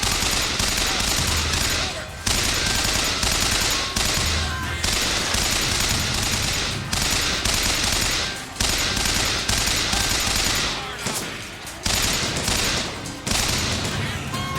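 Rapid bursts of automatic gunfire in the video game BioShock Infinite come in repeated loud volleys separated by brief pauses, filling the whole stretch.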